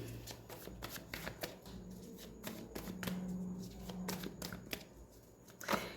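Tarot cards shuffled by hand in a quiet room, a steady run of soft riffling flicks and papery slaps lasting several seconds, with a faint low hum beneath and no talking.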